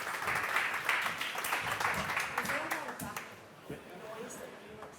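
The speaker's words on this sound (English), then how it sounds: "Let's give them a round of applause and bring them up now" An audience at a blockchain token summit applauding a speaker as he is welcomed to the stage, a steady patter of clapping under voices that fades toward the end.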